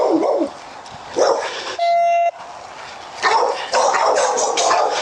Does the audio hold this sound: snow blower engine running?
no